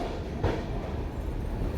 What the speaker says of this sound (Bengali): আমাদের ট্রেন ঢুকে পড়েছে খড়গপুরের আউটলেনে।